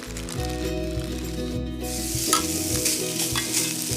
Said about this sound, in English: If you don't hear a sizzle as you add the steaks, you need to wait.